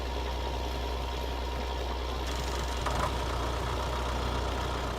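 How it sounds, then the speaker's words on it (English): A tractor in Farming Simulator 19 idles with a steady, noisy engine drone that holds at an even level throughout, with a slight rise in rumble partway through and no talking. "This is a noisy tractor."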